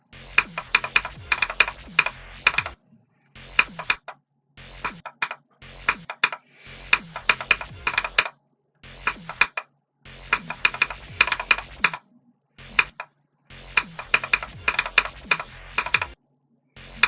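Keyboard keys clatter in rapid bursts while a rhythm video game level is played, clustered runs of sharp clicks separated by short silent pauses, close and fairly loud, with no talking.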